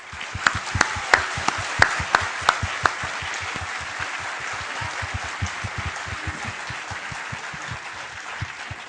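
Sustained applause from a crowd, a dense wash of clapping with several loud, distinct claps early on that fade into a steady roar of hands.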